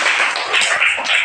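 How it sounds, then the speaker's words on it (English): Children clap their hands together in a classroom, a quick patter of several short bright claps in irregular rhythm, close and fairly loud, with no talking. "clap hands to Tyagu"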